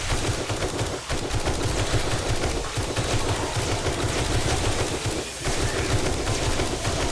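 Rapid gunfire from 7 Days To Die, a dense, continuous barrage of overlapping shots with brief dips, loud and sustained across the whole stretch with no talking.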